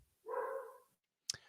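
A puppy gives one drawn-out, whining bark-like vocalization at moderate volume, followed by a brief pause and a single sharp click.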